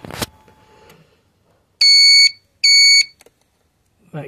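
Audible indicator flasher relay fitted to a Vespa GTS 300 HPE scooter beeps in two sustained tones, each about half a second long, with a short gap between them, loud and close with no talk.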